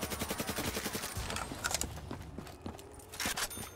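An AK rifle fires in rapid bursts during a Call of Duty custom zombies match, a fast rhythmic chatter of close gunshots that breaks into shorter volleys with gaps between them.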